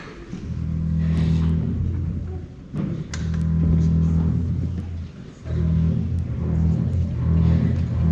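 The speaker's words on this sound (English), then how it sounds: "So this is called the double bass, and it creates a really low, grumbly sound." A double bass in a youth orchestra performance in Santa Rosa plays low, grumbly sustained notes in three long bowed phrases separated by brief pauses, deep and resonant with faint room noise between them.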